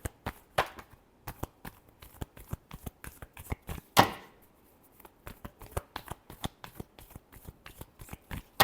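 Tarot cards shuffled by hand in a quick series of crisp riffling bursts, close and fairly quiet, with one louder flurry midway and no talking.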